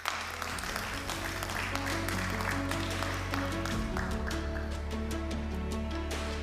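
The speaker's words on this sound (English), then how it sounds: "Please, a round of applause." An audience at a forum salon event applauds steadily as a speaker is welcomed onto the stage, the clapping continuous and moderately distant beneath sustained background music.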